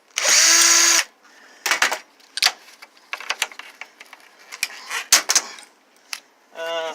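Power drill whirring in one loud, sustained second-long burst during a plasma TV teardown, followed by scattered clanks and rattles of handled parts and sheet aluminum.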